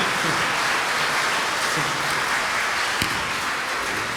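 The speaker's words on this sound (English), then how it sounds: "Thank you for the applause." A crowd claps after a barbershop quartet finishes a song, a dense and steady wash of applause filling the room at even loudness from start to end.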